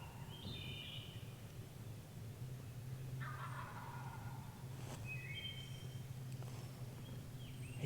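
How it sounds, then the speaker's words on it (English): Wild turkeys gobble in the distance, several faint rattling calls spread through a steady low hum of outdoor background. "they were just working their way back and forth, strutting and gobbling"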